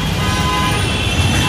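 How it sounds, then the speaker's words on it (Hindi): Busy city road traffic in India: a constant loud roar of cars, buses and trucks with car horns tooting over it, close by and unbroken. "काफी शोर है, बहुत ट्रैफिक है।"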